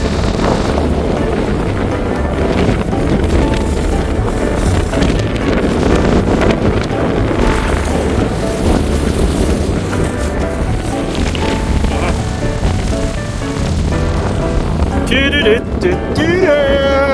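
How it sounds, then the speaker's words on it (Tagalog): Strong wind blasts steadily into the microphone outdoors, a continuous loud roar with a voice speaking faintly beneath it. "Grabe oh, sa lakas ng hangin."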